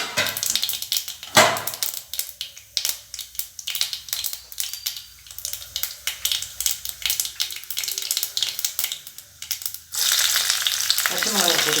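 Urad dal crackles and sizzles in hot oil with mustard seeds and cumin while tempering for potato masala, with sharp popping bursts and spoon clatter, ending in a louder steady sizzle.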